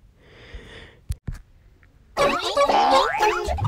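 A springy cartoon boing rings out briefly, followed by a couple of sharp clicks and then a burst of busy, bright sound.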